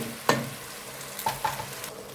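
Tomatoes cook in a pan for an okra dish, giving a soft sizzle with a few brief stirring scrapes and clinks against the pan, near and fairly quiet.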